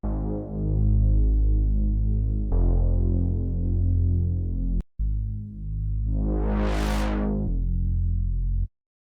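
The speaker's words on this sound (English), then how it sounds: "Next is the bassline." A deep, sustained synthesizer bassline with rich harmonics, playing long held notes in a slow pattern, with a brief filter sweep rising near the end.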